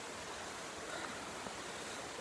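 Water from a natural spring flowing steadily, a soft continuous rushing wash with no breaks, heard at a quiet level.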